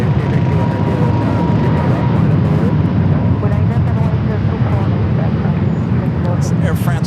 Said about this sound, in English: Virgin Flight 8 heading back to London Heathrow at A350 1000, also now pushing back